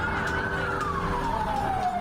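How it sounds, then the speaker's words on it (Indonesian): An ambulance siren heading to the scene of a deadly crash where a truck hit a tower, heard as a loud, steady wail slowly gliding downward in pitch over road noise. "Sejumlah mobil ambulans bergerak ke tempat kejadian."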